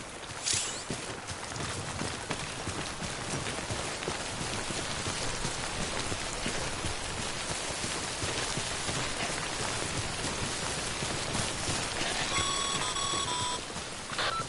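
Timefall rain in Death Stranding pours steadily in a dense, even patter across the whole stretch, with faint electronic beeps near the end and no talking.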